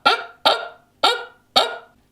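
A human voice imitating a dog barking, recorded for a GarageBand sampler: four short, sharp, close bark-like yelps evenly spaced and alone, each fading quickly.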